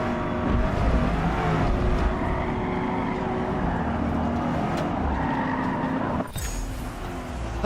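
Race cars in a Forza practice session with light traffic roar continuously at high revs, the engine note climbing and shifting through gears, with a brief dip near the end. The sound is steady and fairly loud, with no voices over it.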